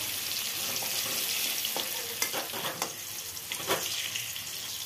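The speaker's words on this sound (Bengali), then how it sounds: "এবার আলুগুলো ভাজা হয়ে যাক।" Potatoes crackle and sizzle in a pan of hot oil, a close steady frying hiss broken by several sharp spatters and stirring scrapes, with no talking.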